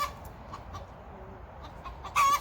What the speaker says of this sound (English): This is the sassiest chicken we own. She's our escape artist.